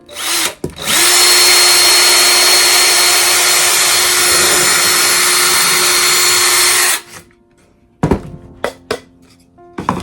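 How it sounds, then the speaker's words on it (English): A power drill whirs loudly and steadily for several seconds, then stops, followed by a few sharp knocks and clatters. "let me get a drill and drill a hole there."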